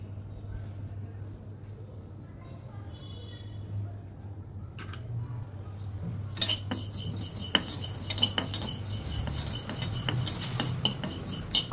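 Fenugreek seeds fry slowly in a pan while they are browned for mango pickle, with a low steady sizzle and clinks of a metal spoon against the pan that grow busier partway through.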